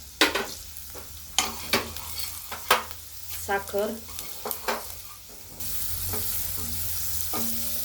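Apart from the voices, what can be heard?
spice tempering sizzling in oil for spiced buttermilk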